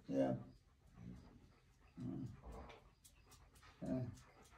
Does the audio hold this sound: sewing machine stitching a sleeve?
no